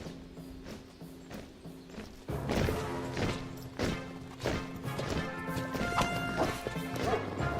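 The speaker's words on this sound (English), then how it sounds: "Can't believe this man smacked his horse's butt." A sharp smack on a horse's rump lands amid busy sounds in King's Quest (2015), with rhythmic hoof-like thuds and clattering continuing steadily around it.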